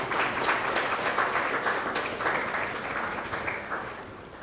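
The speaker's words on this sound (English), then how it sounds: "May we have a huge round of applause for the panelists today and the speakers today" Conference audience applauds the panelists and speakers at a CSR conclave, a full, steady round of clapping that holds strong and then begins to taper off near the end.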